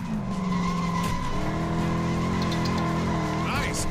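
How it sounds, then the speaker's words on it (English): Tires skid and squeal as a car drifts in LEGO 2K Drive, with a steady engine drone and sliding tire whine running throughout, loud and close, while a voice speaks over the racing noise. "Nice drift."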